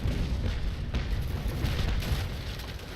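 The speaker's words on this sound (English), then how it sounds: "Fire rear chain shots." Ship cannons in the naval game Naval Action fire chain shot as a continuous booming, rumbling roar of broadside gunfire, heavy and low, filling the whole moment without pause.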